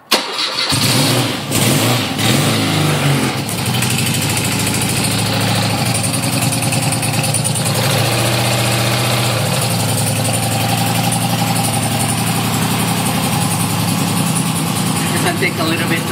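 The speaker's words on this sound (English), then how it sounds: "I'm gonna turn it over." A 1970 Honda CL350 motorcycle engine cranks over with a few stuttering turns, catches, and settles into a steady, throaty idle held up on the throttle while a voice talks nearby.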